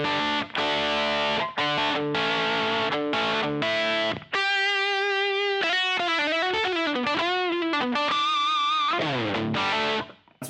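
Electric guitar played through a Badcat Cub V 40-watt EL34 amp with a King of Tones overdrive pedal gives crunchy, overdriven chords and then sustained bending lead lines, loud and close, with no talking.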